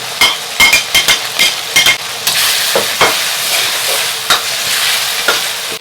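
Minced ginger and garlic, with chopped chili and soybean paste, sizzle loudly in hot oil while a spatula knocks and scrapes the pan in quick, repeated strokes.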